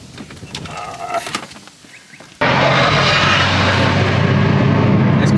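A BMW M4 Competition with a loud aftermarket exhaust roars in a sudden burst, a sustained jet-like rushing blast that jumps in halfway and stays loud and close to the end.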